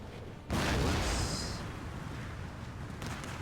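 Gunfire and artillery in the strategy video game Empire Total War, land battle with the Darthmod mod: a sudden loud burst of battle noise that settles into a sustained, dense roar of distant shooting and booms.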